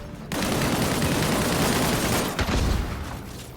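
Sustained gunfire fills a firefight in the video game Disintegration, a dense loud fusillade of rapid shots with a booming low thump partway through, starting abruptly after a brief quiet moment.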